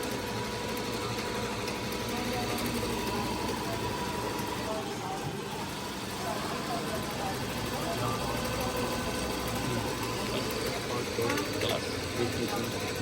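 An embroidery machine stitches a dress in a workshop in Batha, Riyadh, its dense mechanical whirring and clatter running continuously while people talk nearby.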